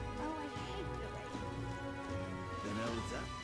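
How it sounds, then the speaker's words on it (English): Steady rain patters throughout in the video game Metaphor: ReFantazio, with a low ambient hum and some faint tonal sounds underneath. "Oh, I hate the rain."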